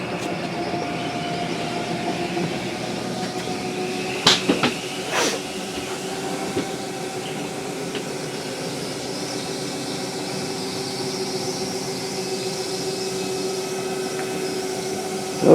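Steady mechanical hum and drone of a slide-out motor on a 2023 Flagstaff MicroLite 25BRDS RV extending the room, a continuous mid-distance whir with a few brief clicks and knocks partway through.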